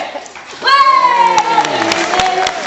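An audience at a Flamingo Land bird show, many of them children, suddenly breaks into loud, sustained cheering and shouting that carries on steadily after a quiet start.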